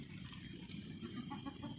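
Chickens cluck softly and continuously in a chicken run on a cold April morning at feeding time, a low murmuring chorus of overlapping clucks with occasional sharper notes, faint and steady throughout.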